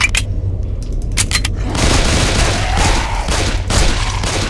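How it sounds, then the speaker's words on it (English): A gun fires repeatedly in the video game SAS Zombie Assault 4, a rapid burst of loud shots followed by a dense, sustained roar of gunfire. "Oh, I have infinity ammo with this gun. Ha ha ha, unload!"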